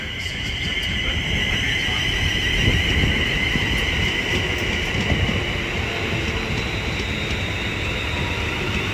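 An eight-carriage Class 350 electric passenger train rumbles steadily past at Watford Junction on the West Coast Main Line, with a sustained electric whine and rolling wheel noise, loud and close throughout.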